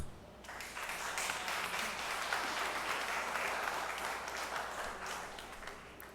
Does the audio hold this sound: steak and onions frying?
no